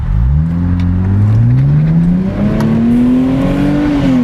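A 2025 Nissan Z Nismo engine revs loudly and up close, its tone climbing smoothly and holding high before easing slightly, with no other sounds over it.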